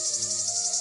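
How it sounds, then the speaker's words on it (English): A male cicada's mating call: a continuous, high, shrill buzzing drone with a slight pulsing texture, steady and fairly close, heard alone. "manipulates infected male cicadas into changing their mating call, which normally sounds like this"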